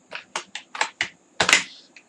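Typing code on a computer keyboard: a quick run of six or seven distinct clicky keystrokes with short gaps, ending in a louder cluster of keys, close and clear with no talking.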